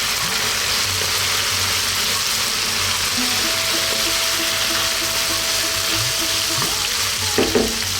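Onion and garlic-ginger paste sizzle and fry in a pan for a beef potato curry, a loud continuous crackling hiss with occasional scraping of stirring, close and steady throughout.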